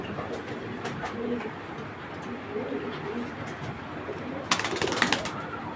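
Racer pigeons coo in low, repeated murmurs inside a loft. The coos run steadily under a soft background hum, and a brief burst of fluttering or clatter comes near the end.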